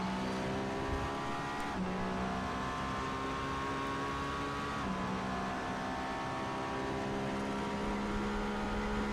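A Le Mans Hypercar engine drones steadily while driving, with sustained high revs and a couple of gear shifts marked by brief drops and rises in pitch, loud and continuous.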